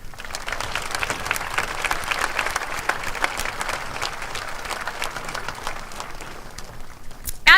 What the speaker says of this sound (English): I think all of us deserve a well-deserved round of applause